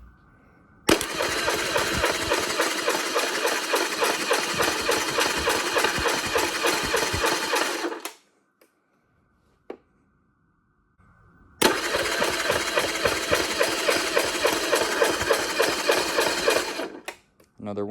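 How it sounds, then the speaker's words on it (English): A Yamaha F50 50-horsepower outboard motor cranks and runs in two long bursts of loud, rapid mechanical chatter, separated by a silent gap, with a brief voice between. "then we'll roll over into getting the actual motor running, seeing how it runs and how it sounds"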